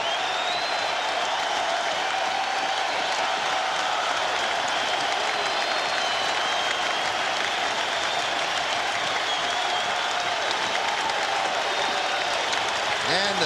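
A dense stadium crowd at a Yankees at Red Sox baseball game roars and cheers continuously, a loud sustained wash of noise with clapping and a faint announcer voice underneath.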